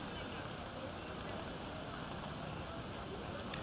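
Rain falls at an outdoor cross country race for a Mount Hood Conference and PIL crossover meet, a steady, even hiss that runs unbroken through the whole stretch.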